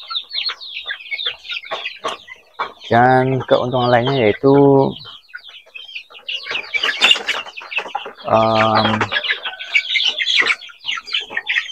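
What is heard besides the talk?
chickens clucking in a semi close house coop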